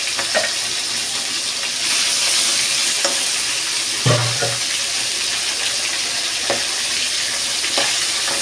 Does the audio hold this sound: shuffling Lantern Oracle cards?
no